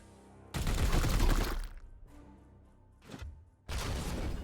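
Gunfire in Chaos Gate Daemonhunters, a loud sustained burst of shots, then quieter pauses broken by a brief second burst and a final heavy volley.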